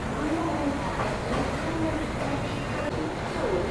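Madgaon Rajdhani Express running at night after leaving Panvel Junction, a steady rumble of the moving train with faint rhythmic clatter, heard from inside the coach, with voices talking quietly over it.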